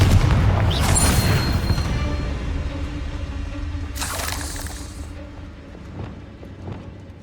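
Spell explosions in the video game Hogwarts Legacy: a heavy booming blast opens, then a rumbling tail and a second burst midway, fading into quieter scattered impacts.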